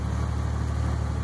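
A Toyota MK3 Supra engine idles steadily with a low, even rumble and constant pulsing, close and continuous throughout with no voices.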